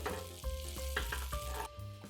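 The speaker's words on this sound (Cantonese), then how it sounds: "跟住咧就可以放些少牛油入去啦" Butter sizzling in a wok preheated over medium-low heat before French toast goes in, a steady close crackle with a few soft clicks and no talk.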